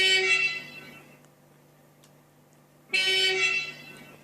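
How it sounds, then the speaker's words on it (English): A New Jersey Transit locomotive horn in the Trainz railway game sounds in two loud blasts with a car-horn-like tone, separated by a quiet gap of about a second and a half, with a low hum underneath. "It sounds like a car horn mixed up with something else."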